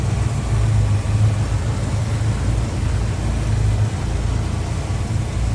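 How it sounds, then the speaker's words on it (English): A 1966 Ford Mustang coupe's 302 V8 idles steadily up close, a smooth, even low rumble that holds unbroken throughout. "And that's a smooth running, good sounding 302."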